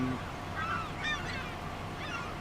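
A few short honking bird calls from Farming Simulator 25 on the Geistal map sound over a steady ambient hum, brief and moderately distant, with no talking.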